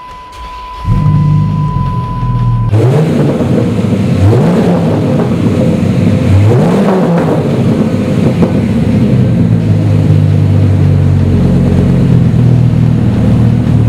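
A 2006 Dodge SRT10 Viper quad-cab pickup with a Magnaflow exhaust starts up after a brief tone, then settles into a loud, deep idle close by, with three rising revs early on before a steady rumble.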